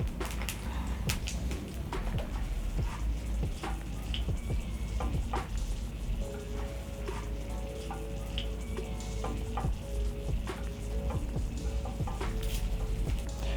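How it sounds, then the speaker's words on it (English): Sausages shallow frying in a pan, with continuous crackling sizzle and spitting pops, fairly quiet, with faint construction noise in the background. "I'm just shallow frying"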